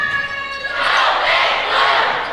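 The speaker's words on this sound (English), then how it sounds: "And the crowd starting to get into it from the student section" A student section crowd at a Class 3A high school basketball game swells into loud broad cheering and shouting after a brief tonal buzz, the roar sustained and close through the end.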